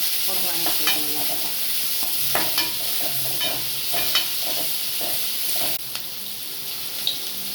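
Curry leaves, small shallots and a single green chili sizzle steadily in a hot pan for a special masala sundal, with a few sharp spatula scrapes and stirs breaking through the close, continuous frying hiss.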